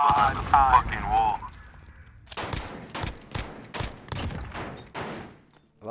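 Rapid bursts of gunfire crack out in a Call of Duty Modern Warfare 3v3 match, a string of sharp, closely spaced shots following a brief stretch of voice at the start.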